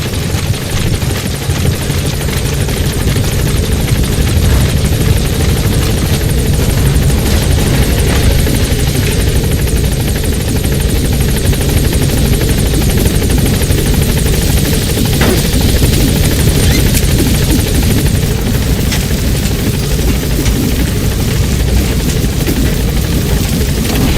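A support helicopter arrives in Metal Gear Solid V: The Phantom Pain, its rotor thumping loud and steady for the whole stretch, with scattered gunfire crackling faintly underneath.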